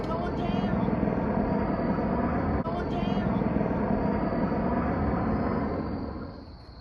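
A CH-53 military helicopter passes overhead near a river, a loud, steady rotor and engine roar holding for several seconds before fading at the end.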